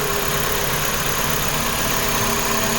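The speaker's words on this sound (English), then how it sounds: "That noise was definitely the alternator." A car engine idling with a steady alternator whine and hum running through it, a constant close drone with no talking.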